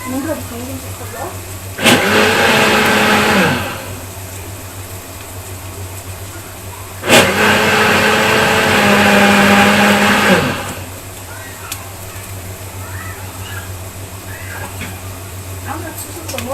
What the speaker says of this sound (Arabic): نضرب الخليل في الخلاط.